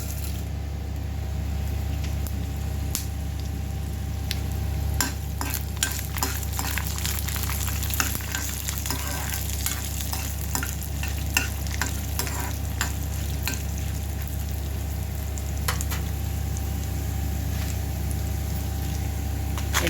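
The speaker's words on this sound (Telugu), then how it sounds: "ఆయిల్ హీట్ అయింది మనం దీనిలో ఒక స్పూన్ పచ్చిశనగపప్పు ఒక స్పూన్ మినపగుళ్ళు ఒక స్పూన్ ధనియాలు వేసుకుని ఫ్రై చేసుకుందాము" Chana dal, urad dal and coriander seeds fry in hot oil for a fenugreek-tomato roti pachadi, giving a continuous close sizzle with frequent stirring scrapes and clicks of the spoon against the pan throughout.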